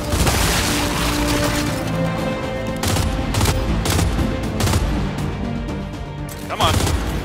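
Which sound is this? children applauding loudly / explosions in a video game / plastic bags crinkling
explosions in a video game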